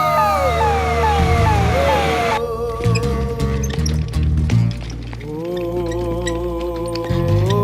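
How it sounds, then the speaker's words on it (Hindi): An ambulance siren wails with a rising and falling pitch, joined midway by a low rumbling engine and background voices, loud and close. "एम्बुलेंस"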